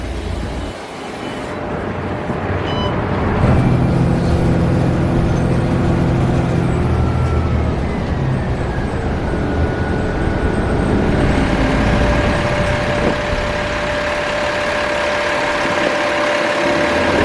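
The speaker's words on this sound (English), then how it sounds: "Bus is pulled in, it's time to go." A city bus idles and pulls in at a Van Ness bus rapid transit stop, giving a steady, close engine rumble with road noise that swells slightly partway through and holds.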